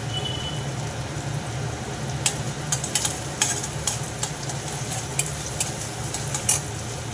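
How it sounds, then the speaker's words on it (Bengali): Whole cumin and garam masala tempering sizzles steadily in hot oil for a jackfruit curry, with scattered sharp clinks of a spoon stirring against the pan. "দিয়ে দিলাম গোটা জিরে আর গরম মশলা ফোড়ন"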